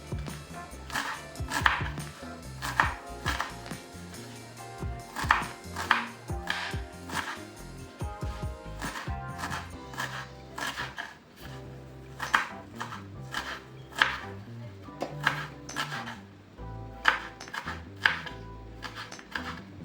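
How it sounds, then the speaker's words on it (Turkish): Steady knife chopping of purslane on a cutting board, repeated sharp taps in quick bursts with short pauses, close and fairly quiet, no talking. "Doğrama işlemim tamamlandı."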